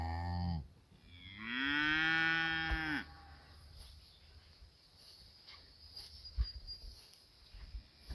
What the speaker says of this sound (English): but Clover lingers for a moment longer before giving a tiny answering moo and turning to run back to her side